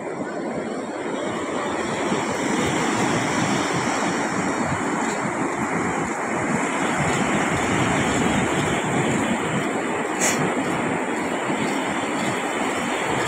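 Steady roar of surf and crashing waves close by after a typhoon, with wind buffeting the microphone throughout and no speech.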